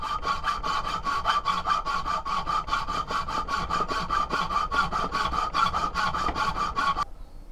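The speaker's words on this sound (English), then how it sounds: "So what I need to do is cut that out first." A hand saw cuts a smatchet blade shape out of steel plate in fast, even back-and-forth strokes, close and continuous for about seven seconds before stopping abruptly.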